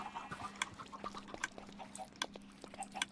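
Minecraft chickens cluck and squawk in an automatic chicken farm, with many short overlapping clucks in quick irregular bursts over a faint steady hum, fairly quiet and without speech.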